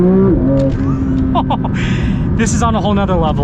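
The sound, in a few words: Porsche 911 GT3 992 engine revving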